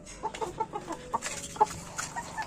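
Soft clucks from chickens pecking feed over a busy farmyard background, with light tapping and pecking sounds scattered throughout.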